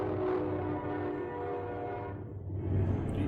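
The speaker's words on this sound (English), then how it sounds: "here's the train" Train passing sound effect, a rumbling rail roar with tonal horn-like harmonics that fades out, then low rumble returns, loud and close with no talking.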